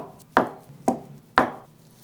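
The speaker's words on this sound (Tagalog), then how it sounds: "Hiwain pa natin sa 4 na piraso." Three evenly spaced knife chops cut through a block of tofu on a chopping board, each a crisp close thud against the board with short quiet gaps between.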